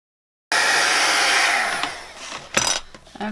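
A heat tool blows hot air over a watercolor flower card in one steady, loud roar of about two seconds, then cuts off, leaving a few handling knocks.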